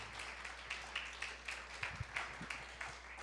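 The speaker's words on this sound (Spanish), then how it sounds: "Denle un fuerte aplauso a nuestras hermanas." A church congregation claps for the sisters, a fairly quiet, uneven patter of hands with a few sharper claps standing out, heard from a little distance over a low hum.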